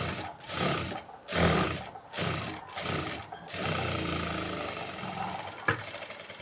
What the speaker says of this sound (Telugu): పాదం ఖర్చుతో స్టార్ట్ చేసుకొని ఇలా కుట్టుకోవాలి నెమ్మదిగా కుట్టుకోవాలండి